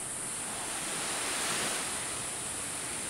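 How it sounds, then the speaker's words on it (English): Ocean waves wash in on a shore, a dense, steady surf hiss with a slight swell in the middle, mixed with wind buffeting the microphone and no voices. "there's the ocean"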